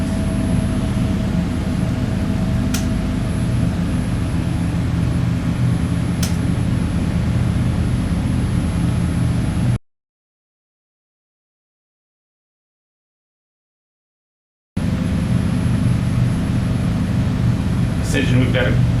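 A flex-fuel engine runs on a dyno for break-in at a steady 3,000 RPM under about 110 foot-pounds of load, giving a constant loud drone that stops for several seconds and then resumes.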